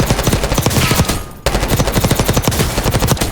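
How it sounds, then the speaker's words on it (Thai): Rapid automatic gunfire from a gun with red tracer bullets in the Call of Duty video game, loud and close. Two sustained bursts are split by a brief pause. "เอฟเฟกกระสุนแดงๆลองยิงดูนะครับ"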